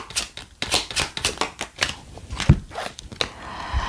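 Tarot cards being shuffled by hand, a quick run of crisp riffling and flicking bursts, close and fairly loud, with no talking over them.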